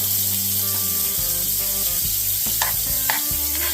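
Wagyu steak fries in melting butter, giving a continuous close sizzle with scraping and stirring sounds of the butter being moved around the pan.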